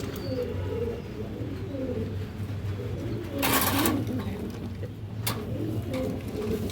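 Old-line breeder pigeons, including a silver male with a chick, coo in low repeated murmurs close by, with a brief burst of fluttering or rustling partway through.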